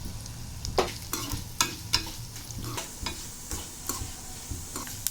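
Coriander seeds and cumin frying in oil in a pan over medium flame, a steady sizzle with repeated sharp scraping knocks of a spoon stirring, close and fairly loud, no voices.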